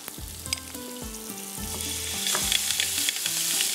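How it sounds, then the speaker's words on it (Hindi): Garlic and potato with other vegetables frying in a little butter for a paneer shashlik sizzler, a steady close sizzle with repeated stirring scrapes and clinks against the pan, no voices. "बटर के साथ ही फ्राई हो रहा है"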